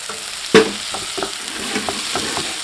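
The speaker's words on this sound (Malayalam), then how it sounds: "ആ അരിഞ്ഞ് വെച്ചിരിക്കുന്ന തക്കാളിയും കൂടി അതിനകത്തേക്ക് എന്നിട്ടിട്ട് നമുക്ക് നല്ലപോലെ നിളക്കാം." Chopped tomato is stirred into chicken parts frying in a pan, with a steady low sizzle and a run of scraping stir strokes, one sharp knock early on, all close up.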